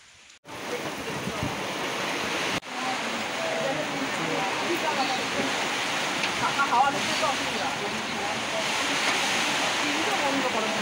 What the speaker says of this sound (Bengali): দেখতে পাচ্ছ বৃষ্টি পড়ছে